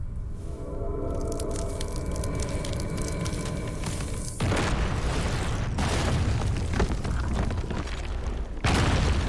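A massive stone statue crumbling apart in Shadow of the Colossus, a sustained loud rumbling collapse with crunching debris, surging into heavier booming bursts near the middle and again at the end.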